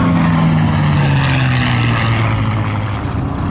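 The Gunfighter warbird, a Rolls-Royce Merlin-powered fighter, passes show center at the CAF Wings Over Dallas airshow, its loud droning engine roar steady, with a falling pitch as it goes by.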